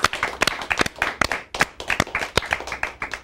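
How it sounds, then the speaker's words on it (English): An audience claps for the winner of Indian Idol on a talk show, a burst of sharp, fairly close hand claps with a loose uneven rhythm and no talking over it. "Let's give him a big round of applause"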